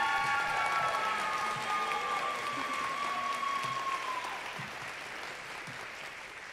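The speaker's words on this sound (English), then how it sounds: "We can applaud for each of the college folks." Audience applause at a college wind ensemble concert, a steady wash of many hands clapping that holds loud for several seconds, then gradually thins and fades toward the end.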